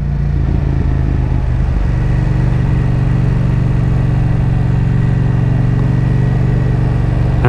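A motorcycle running on an open road while close to running out of fuel, its engine holding a steady, loud, low drone up close throughout, with no talk.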